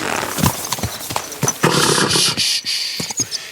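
Horse hooves and neighing in the video game Kingdom Come Deliverance II, with close, irregular clip-clop hoofbeats, snorts and a brief whinny, loud and without talk.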